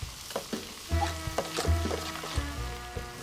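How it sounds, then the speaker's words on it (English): Wine added to a pan of pork loin boils and sizzles steadily up close, with the scrape and clink of stirring in repeated strokes. "And we let this boil."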